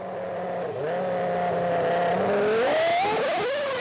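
Formula 1 race cars from the 2002 season, including a Ferrari, scream past with a loud, continuous high-pitched engine whine that rises and falls through gear changes, steady and close throughout.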